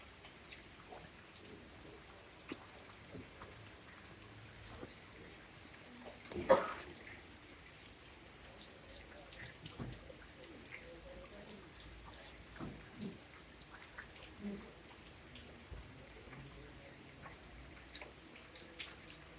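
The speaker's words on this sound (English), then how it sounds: "Raining again?" Light rain at a tea-estate bungalow in Sri Lanka's hill country, a faint steady patter with occasional louder drips and knocks, and no talking.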